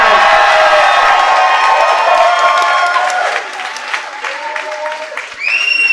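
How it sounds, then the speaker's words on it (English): A live audience at a cycling talk show event cheers and applauds loudly with whoops and clapping, the roar fading after a few seconds as a voice cuts in. "give me a cheer"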